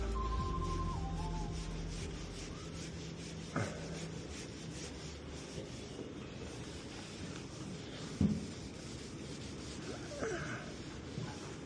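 Sealant being stripped from a silver aircraft deice boot gives a steady, faint scraping and rubbing at close range, with a few sharper knocks and scuffs scattered throughout.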